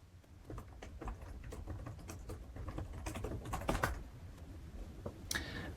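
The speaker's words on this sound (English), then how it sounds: "and I can just start typing away." Fingers type quickly on a computer keyboard in a text editor, producing a rapid, irregular patter of close, light key clicks with a few heavier taps and a brief louder clack near the end, no talk.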